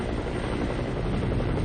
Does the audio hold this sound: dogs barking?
no